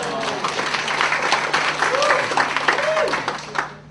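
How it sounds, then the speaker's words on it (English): A comedy club audience applauds a stand-up comic in a steady, dense wash of clapping that holds at full strength, with a few voices whooping faintly inside it. "Not sure why you're applauding."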